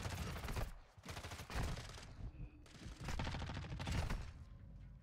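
Automatic gunfire in the video game Warzone 2.0 while a player jump-shots, with long rapid bursts of shots broken by short pauses, loud and close, and no talking over them.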